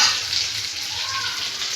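Mackerel (bangda) fillets frying in a pan give a steady, close sizzle with a bright crackling hiss that holds level for the whole stretch, with no talking.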